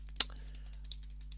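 A few quick, light keystrokes on a computer keyboard, one sharper click standing out among soft, sparse taps, close and quiet over a low steady hum.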